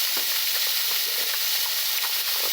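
A burger patty frying in a pan gives off a loud, continuous bright sizzle and crackle at close range, steady throughout with small spits and pops.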